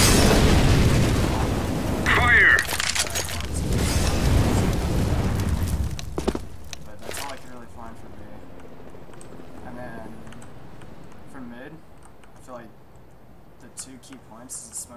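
An incendiary grenade thrown on the De_Crown map in Counter-Strike bursts into a loud, crackling roar that lasts several seconds and then fades, with someone talking throughout.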